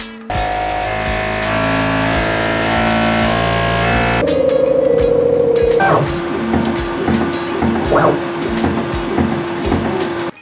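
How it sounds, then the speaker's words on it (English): Bambu P1S 3D printer running calibration, with loud whirring fans and motor-driven axes producing sustained mechanical tones that shift in pitch partway through, accompanied by clicks and knocks. "What it actually did was fire up the fans and axis like a jet engine and slam the nozzle into the plate"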